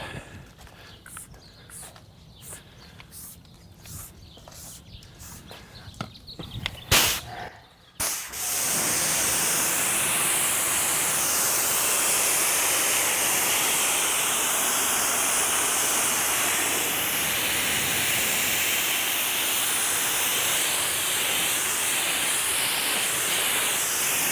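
A few clicks and rattles come first, then a loud continuous spray hisses steadily for over fifteen seconds, close by.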